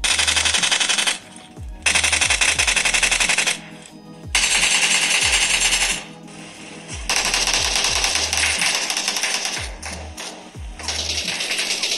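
Rapid automatic gunfire from the PUBG Mobile video game, played on a Pixel 3 phone, comes in loud sustained bursts broken by brief pauses, with dense rattling shots throughout.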